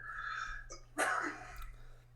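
A single sharp sneeze bursts out close by, preceded by a brief intake of breath, over a low steady hum.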